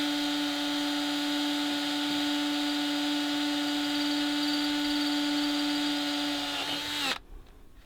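A power drill steadily whines as it drives a screw into a boat's downrigger mount, one long continuous steady tone up close that winds down and stops abruptly near the end.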